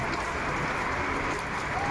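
Hard rain falls over Dhaka in a continuous close wash of noise, drops pattering on surfaces without a break.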